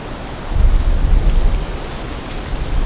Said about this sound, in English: Just as the wind picks up.